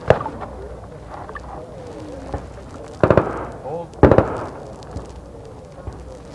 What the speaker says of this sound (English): Going to fire at the high rate first.